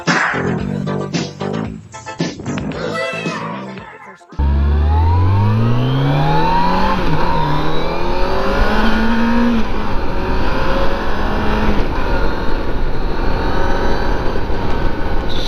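A Yamaha FJR1300 sport-touring motorcycle without its saddlebags accelerates hard at high speed, the engine note climbing loudly through the gears under heavy wind roar after a brief quieter stretch at the start.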